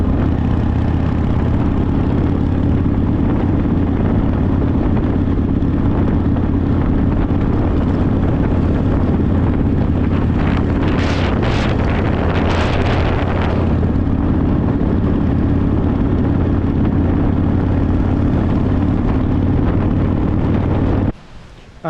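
A rebuilt 2005 Harley-Davidson Fatboy CVO riding in strong wind gives a loud, continuous engine rumble under heavy wind roar, with gusty bursts in the middle, before cutting off abruptly at the end.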